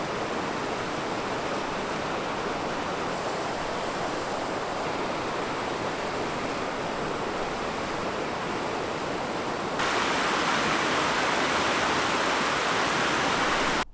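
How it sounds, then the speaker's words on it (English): Rapids or a waterfall near Emu Lake in Algonquin roar in a dense, unbroken rush of white water, loud and close throughout, growing even stronger for the final few seconds before cutting off abruptly. "It's the rapids or the waterfall near Emu Lake."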